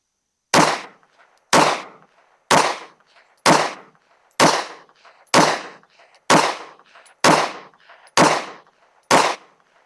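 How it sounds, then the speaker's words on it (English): An Anderson Kiger-9C pistol fitted with a Strike Industries Mass Driver compensator fires ten loud, close shots at a steady pace of roughly one per second, each crack followed by a short outdoor echo. "We're going to shoot a 10-shot group at the top right target."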